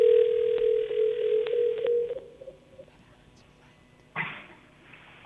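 A steady electronic telephone ring tone on a call sounds for about two seconds and then fades, followed by silence and a brief burst of noise as the line picks up.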